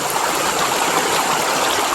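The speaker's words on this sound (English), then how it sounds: "And don't fall in the river." A river in the Alabama backwoods rushes along in a loud, steady, broadband wash of flowing water, close by and continuous throughout, with no voices.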